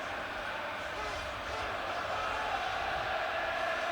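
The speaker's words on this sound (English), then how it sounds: "the Ajax crowd are beginning to find their voices again now" Ajax football crowd in a stadium, a dense continuous roar of distant voices that stays steady and builds slightly, with no distinct cheers standing out.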